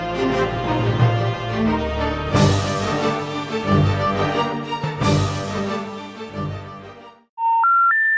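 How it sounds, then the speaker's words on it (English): A telephone line plays a short run of three rising electronic tones, loud and clean, right after music cuts off. "The number you have dialed has been changed."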